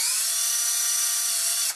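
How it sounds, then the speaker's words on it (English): A power drill whines at high speed in one continuous burst, drilling holes in a headdress with a foam head underneath, close and loud, then winds down abruptly at the end. "I'm going to try drilling holes right where the"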